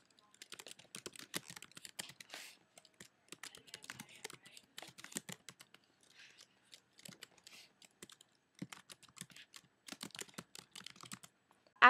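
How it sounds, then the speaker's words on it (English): Bursts of quick computer keyboard typing, close and light, come in several runs separated by short pauses while entering text. "I then want to finish typing my text into the SmartArt graphic."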